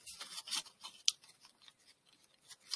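Origami paper being creased and unfolded while shaping the base of a paper fish, part of folding a Tyrannosaurus model; faint, close crinkles and soft rustles with one sharper crisp crease snap, no talking.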